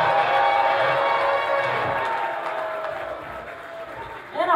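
A concert crowd at Harlow's in Sacramento applauds and cheers after a live band introduction, a dense, steady wash of clapping that slowly fades, with a brief shout near the end.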